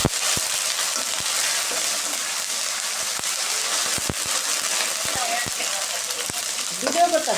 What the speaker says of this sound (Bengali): এখন আমি আদা রসুন বাটা দিয়ে দেব। আদা রসুনটা ভেজে নেব।